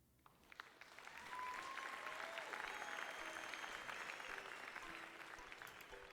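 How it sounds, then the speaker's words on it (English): Circus crowd ambience from the video game Death Trick: Double Blind: a dense wash of bustling crowd noise and clapping swells in over the first second and holds steady, with faint tonal sounds drifting through it. "Crowds of bustling, children laughing."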